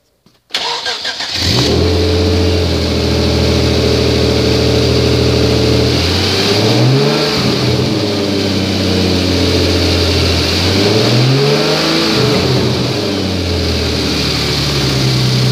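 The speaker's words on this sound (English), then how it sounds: "It's got aftermarket exhaust. Will be quite loud when you start it and rev it." A 2010 Hyundai Genesis coupe with an aftermarket exhaust and taped-shut resonators cranks and fires up loudly, then settles into a steady idle broken by two deep rising revs, heard up close with no talking.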